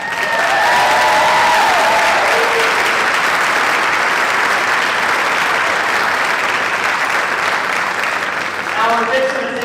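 Loud, sustained audience applause with cheering voices mixed in at the Bulls Racing 2025 car unveil event at The Motor Enclave, continuous clapping that barely eases toward the end.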